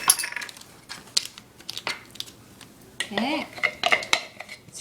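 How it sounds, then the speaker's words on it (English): A knife scrapes and clinks around the inside of a food processor bowl, clearing out coconut butter brownie mixture in irregular metallic scrapes and taps, close by, with one brief spoken word. "I usually take a knife too to scrape out my processor"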